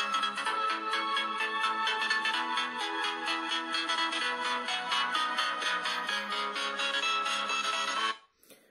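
A loud electronic ringtone melody plays continuously from a Honor 9X phone with bright repeating notes, then cuts off abruptly near the end.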